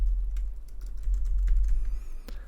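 Fingers type on a computer keyboard while entering text in Photoshop, giving a quick, irregular run of close, crisp key clicks over a low steady hum, with no talking.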